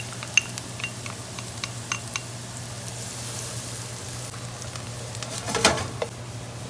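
Garlic sizzles in a pan alongside browning onions, a steady close frying hiss under a low hum, with a few light stirring clicks and a brief louder scrape near the end.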